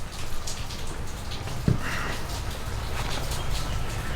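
Steady rain patters and hisses outdoors in North Carolina, with scattered drops and a soft background wash throughout.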